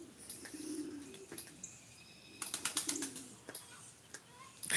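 Pigeons coo and call intermittently in a shed setting, soft burbling notes repeating through the stretch with a few sharper chirps, fairly close but not loud, alongside faint background voices.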